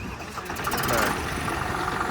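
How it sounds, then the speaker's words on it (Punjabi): A John Deere 5210 tractor fitted with big tyres rumbles nearby in a steady low idle after starting, with a voice talking over it. "ਆਵਾਜ਼ ਬਹੁਤ ਸੋਹਣੀ ਆ ਬਾਈ ਸਟਾਰਟਿੰਗ ਜੌਂਡੀਰ ਦੀ ਸਾਰਿਆਂ ਨਾਲੋਂ ਬੈਸਟ ਆ"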